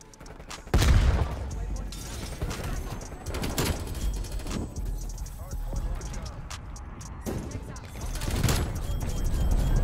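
Gunfire in Call of Duty: Black Ops Cold War, with an LC10 class in play: sharp bursts stand out near the start and at intervals over a constant loud game mix, alongside other battle noise.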